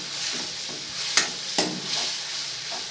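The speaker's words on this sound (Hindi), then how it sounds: "और अब इसकी भुनाई कर लेंगे।" Vegetables with turmeric roast in a pan, a continuous sizzle broken by several sharp scraping stirs of a spoon against the pan.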